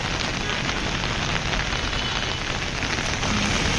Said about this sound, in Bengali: দেখুন প্রচুর বৃষ্টি